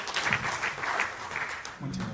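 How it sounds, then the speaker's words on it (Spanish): Quiet applause from a forum audience welcoming a speaker at a justice event, a steady patter of claps with a voice briefly underneath near the end. "Pues démosle un aplauso, por favor, a José Pablo Vidal Araya."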